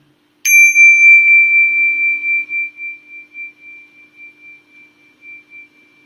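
A single meditation bell is struck once, ringing out with a bright, pure tone that hangs in the air and slowly fades with a gentle pulsing shimmer over several seconds, alone in a quiet room.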